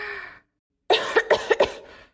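A woman coughs from dust, a short burst of four or five quick, close, fairly loud coughs following a brief vocal sound.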